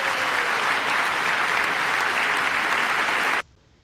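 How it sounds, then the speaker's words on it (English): Members of Congress applaud during a presidential address in the House chamber, a dense, steady roar of clapping that holds loud and even, then cuts off abruptly near the end. "you got the damn Republicans clapping for peace"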